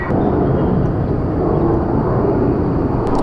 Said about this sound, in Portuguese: Será que o microfone capta o barulho do avião?